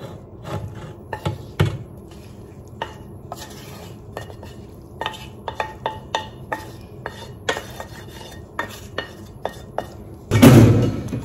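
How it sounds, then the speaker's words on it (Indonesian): Spoon scraping and clinking in a pot as sautéed meat is stirred into a bitterballen mixture, a string of sharp metallic taps over a low sizzle, ending in a louder clatter. "Dan kita aduk bersamaan sampai semuanya tercampur dengan rata."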